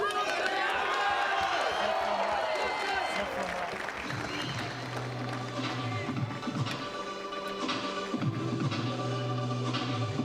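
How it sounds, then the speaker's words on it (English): A raucous home crowd at London 2012 Paralympic wheelchair tennis greets Great Britain's Gordon Reid before a men's singles third-round match: loud, dense cheering and applause fill the first seconds, then ease off beneath a commentator's voice. "So quite a raucous home crowd greeting Gordon Reid of Great Britain"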